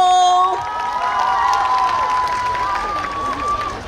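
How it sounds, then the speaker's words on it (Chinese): A crowd applauds and cheers at an outdoor music festival at Huashan Creative Park in Taipei. A steady roar of clapping runs throughout, under an amplified voice and ringing tones. "掌声鼓励"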